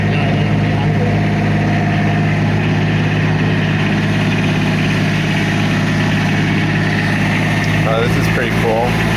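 A security patrol cart's engine idles in a loud, steady drone with a constant low hum and rattling vibration throughout, while voices are faintly present under it.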